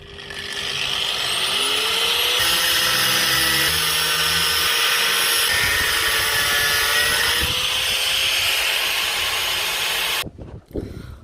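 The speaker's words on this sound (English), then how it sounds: "I'm now going to cut this bolt to length and then fill up the end of this with weld" A power tool cuts a steel bolt to length during a car suspension repair. It makes a loud, continuous high whine and grind for about ten seconds, then stops abruptly, with no one speaking.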